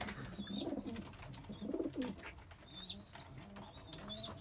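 Pigeons in a breeding coop coo steadily, with soft throaty calls and scattered higher chirps from several birds nearby, under a low background hum.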